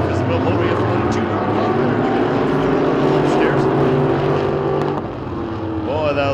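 Modified sportsman race cars, steel-engine short-track modifieds, roar together around the Talladega short track, a loud sustained engine drone that dips slightly near the end, with commentary running over it.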